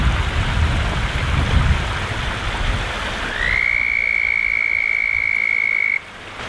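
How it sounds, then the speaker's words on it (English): A loud, steady frog croak rises and holds for a few seconds by a bass pond, over the constant rush of a waterfall. "That is a loud frog, even over the sound of the waterfall."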